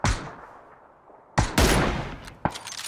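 Gunfire in PUBG: a single sharp shot opens, then after a pause two loud bursts of rapid shots close together and one more crack near the end, all near and without talk.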